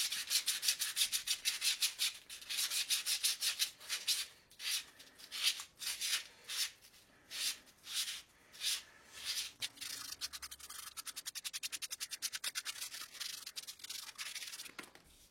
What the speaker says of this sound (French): Avec un mouvement circulaire arrondir le manche du couteau.